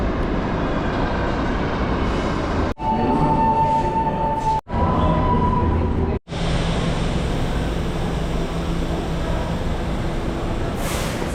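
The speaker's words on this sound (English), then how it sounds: "we are waiting here at the Times Square station to catch the Q train" A New York subway Q train roars through Times Square station, a loud continuous rushing rumble broken by brief cuts, with a faint whine riding over it and no voices.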